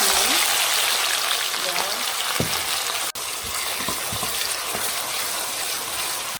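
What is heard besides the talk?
sliced onions and chili frying in palm oil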